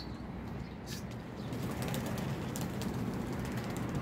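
Pigeons flying overhead, a brief flutter of wings and faint cooing over a constant outdoor rumble, with no voices.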